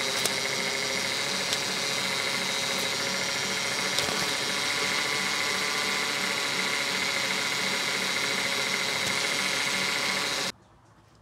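The V6 engine of a 1999-2004 Ford Mustang idles steadily at close range, a constant mechanical hum with faint ticking that runs unchanged before cutting off abruptly near the end.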